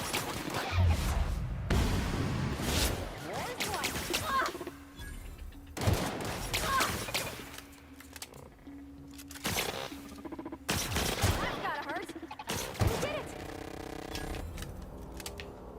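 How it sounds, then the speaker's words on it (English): Sniper rifle fire in The Outer Worlds, heavy broadband shots landing every few seconds amid other combat noise and clanking mechanisms, fairly loud and close. "Sniper rifle does pretty good."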